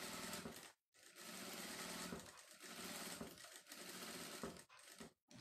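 An electric sewing machine runs in steady bursts as it stitches a lining to the main fabric of a sewn kit, with short pauses between runs and no talking.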